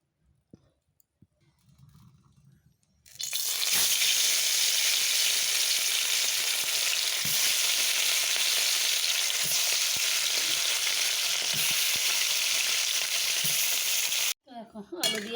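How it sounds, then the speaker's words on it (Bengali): Small catla fish hit hot oil in a wok after a few quiet seconds, then sizzle loudly and steadily for about eleven seconds with faint stirring before the frying cuts off. "চলো এখন মাছগুলো ভাজি"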